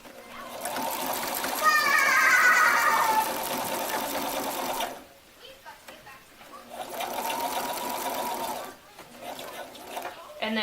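Sewing machine stitching a T-shirt being altered into a maternity shirt, running in two steady bursts with a short pause between, near and fairly loud, with a voice briefly audible over the first run.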